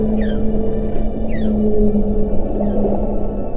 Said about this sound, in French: l'écoute des chants de baleines est l'unique et plus efficace moyen